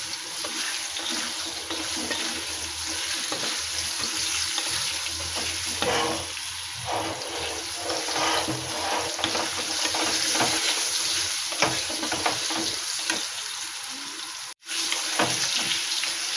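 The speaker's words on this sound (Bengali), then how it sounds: "আলু ভাজা হয়ে গেছে," Potatoes frying in a pan with kalo jeera and chilli, a loud, continuous sizzle close by, broken by scraping stirs and one brief drop-out near the end, no voices.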